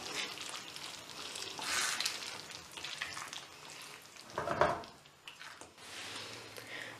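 Paneer handi being gently mixed in a pan with the stove just switched off, a soft fading sizzle with wet squishing stirs and one sharper scrape midway, fairly quiet throughout.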